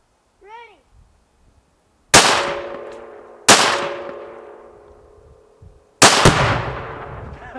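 A rifle shot sets off a tannerite target in a field: three loud, sharp blasts spaced about a second and a half apart, each with a long ringing decay. A brief whistle-like call comes before them.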